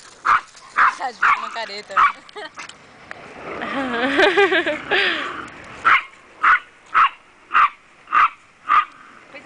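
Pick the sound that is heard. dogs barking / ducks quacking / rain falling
dogs barking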